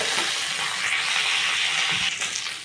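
Boiled potato pieces land in a frying pan with onion, setting off a steady broadband sizzle that hisses continuously at close range with no talking.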